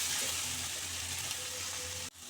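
Vegetables frying in a pan as chopped green chillies go in for chicken chow mein, a loud close continuous sizzle that cuts off abruptly near the end.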